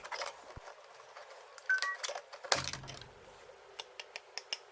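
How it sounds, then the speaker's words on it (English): A flathead screwdriver pries the plastic case clips off a Roborock robot vacuum, giving small close clicks, a sharp snap near the middle, then light scattered ticks and taps. "insert a flathead screwdriver near one of the clips and twist it. This should pop it out."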